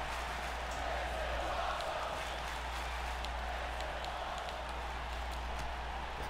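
A steady, dense crowd roar fills a WWE 2K19 wrestling arena, holding at an even level throughout without distinct peaks.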